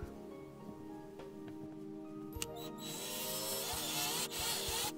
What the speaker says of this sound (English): drill a couple pilot holes